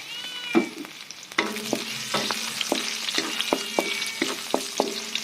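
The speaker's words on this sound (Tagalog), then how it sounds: "So now we saute the onion. And then we add a little bit of ginger." Onion and ginger sauté in a pan with a continuous close sizzle and repeated scraping strokes of a spatula in a steady rhythm, while a cat meows in the background.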